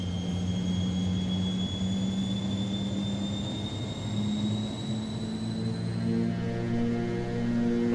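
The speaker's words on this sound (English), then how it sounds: "I love the takeoff sound, man" MD80 jet engines spool up for takeoff in a flight simulator, a steady loud whine with rising high tones over a low rumbling drone that builds slowly.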